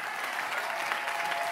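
A church congregation at a prophetic service claps hands steadily, a dense continuous patter of many hands at moderate distance, with no voices breaking through.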